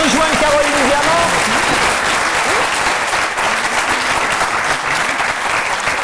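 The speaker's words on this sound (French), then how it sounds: "Je vous remercie de vous applaudir, Clémence" Loud, dense audience applause from a television studio crowd, sustained and even throughout, with a voice speaking over it near the start.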